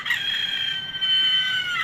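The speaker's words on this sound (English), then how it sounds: "He's got a toy rooster that lights up." A light-up toy rooster lets out a loud, sustained electronic crow lasting nearly two seconds, heard alone and close with no talking.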